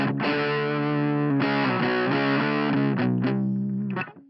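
A distorted electric guitar plays chords through a Source Audio LA Lady pedal with the treble turned all the way down, the tone dark and muffled with the highs rolled off, ringing out before fading.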